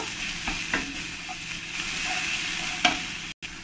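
Chili powder being stirred into mutton curry in a pan, with a steady soft sizzle and a few scraping spoon strokes, close and moderately loud with no talking.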